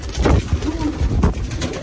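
A racing pigeon coos in a loft, with soft repeated throaty coos close by and faint other sounds in the background.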